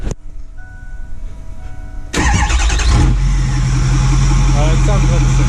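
A Ford F250 truck with a cab dump exhaust and a short down pipe cranks and fires up after a quiet stretch, then settles into a loud, deep idle rumble close by.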